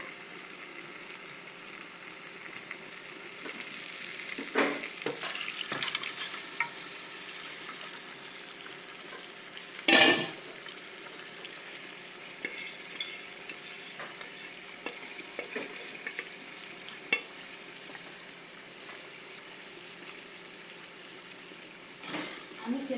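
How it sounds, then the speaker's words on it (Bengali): Fried potatoes and mutton added to a spiced masala for a mutton head curry, with a continuous low sizzle and occasional spoon stirring, one louder clatter midway, under faint background. "এবারে আমি আলুগুলো এই পর্যায়েও দিয়ে দিচ্ছি, আলুগুলো ভেজে রেখেছিলাম। আর আমি মাটনটাও এবারে দিয়ে দেবো।"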